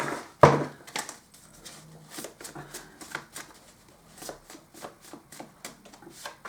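A deck of tarot cards is shuffled by hand: a sharp burst of riffling at the start, then a run of soft, quick flicks and slides close by, with no voices.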